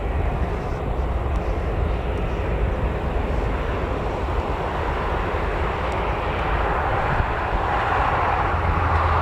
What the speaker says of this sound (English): KLM Embraer E190, just taxiing there.